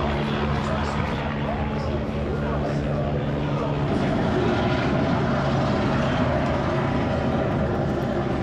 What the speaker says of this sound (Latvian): Redz, ko helikopters iet gaisā arī.